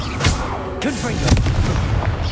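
Confringo fire spell from Hogwarts Legacy bursting during a bandit camp fight: several loud booming blasts and cracks in quick succession over a dense, rumbling battle background, with shouted voices mixed in.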